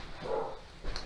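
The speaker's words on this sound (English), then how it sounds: "You can probably hear my dog barking downstairs" A dog barks from downstairs in a house, one muffled, distant bark followed by a faint second yelp, heard through a quiet room during a yoga session.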